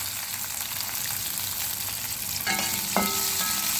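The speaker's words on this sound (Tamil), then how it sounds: "இப்போ பொரிச்ச நறுக்கின வெங்காயம் 2 பல்லு பூண்டு இதை நம்ம போட்டு கொஞ்சம் வதக்கிக்கிறோம்" Chopped onions and garlic sizzle steadily in a hot pan, with a brief stir or scrape clinking partway through.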